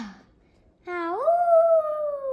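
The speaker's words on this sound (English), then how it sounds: "A coyote howled in the distance." A lone coyote howl sound effect: a short yip, then a clear, rising wail that swells and holds as one long, steady, mournful note against an otherwise quiet background.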